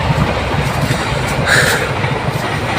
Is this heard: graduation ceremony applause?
no